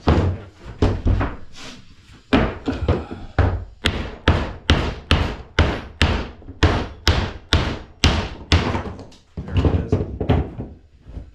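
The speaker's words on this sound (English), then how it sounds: "It just tore the wood grain out before failing." An epoxy-bonded wood joint is hammered and strained until it breaks apart, the wood grain tearing. Dozens of heavy, hollow wooden knocks fall in a fast, steady run, loud and close, with only brief pauses and no talk.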